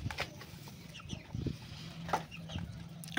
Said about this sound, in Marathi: प्युअर गावठी कोंबडी आहे सर.